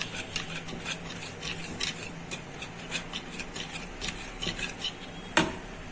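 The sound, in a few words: whisking dhokla batter in a bowl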